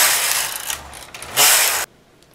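Knitting machine carriage swept across rows of dragonfly stitch, a loud steady mechanical whir and clatter lasting nearly two seconds, with a sharper burst near the end before stopping abruptly.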